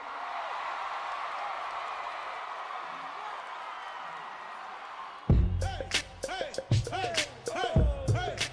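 A New York City concert crowd roars with cheering and applause, starting abruptly after a stretch of broad steady crowd noise, then rising and falling in loud bursts around a voice over the sound system.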